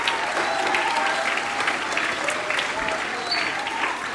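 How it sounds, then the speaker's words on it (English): Audience applause for the maintenance and grounds crew at a secondary school UN Day event, steady clapping filling the room throughout with some crowd murmur mixed in. "maybe give them a bit of a round of applause"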